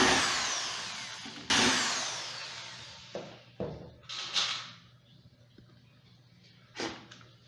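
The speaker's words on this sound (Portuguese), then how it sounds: "agora a gente só faz a instalação dos parafusos" Power drill driving screws into door hinges while a hinged door is installed, several short whirring bursts, the first two long and loud, then briefer spurts fading, close and alone.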